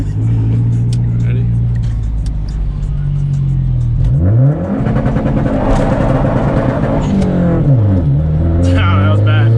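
A 400whp 2010 Mazda Mazdaspeed 3 engine holds a loud droning two-step launch limiter, then rises and sweeps in pitch as the revs climb and fall, close and powerful, with a brief spoken word early on.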